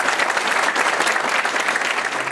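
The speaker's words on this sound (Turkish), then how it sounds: "kendisini de güçlü bir şekilde alkışlıyorum" Applause for the mayor at a workers' union congress: a dense, steady crowd of clapping hands filling the room, loud and continuous throughout.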